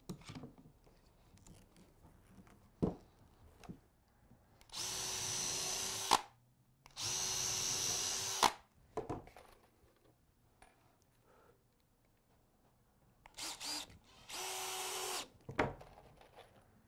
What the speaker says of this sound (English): then I pre-drilled, and I'm using these pocket hole screws